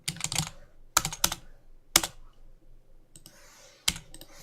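Computer keyboard keys tapped in short bursts while a folder name is typed, quick clusters of crisp clicks separated by brief pauses, close and clear with no talking.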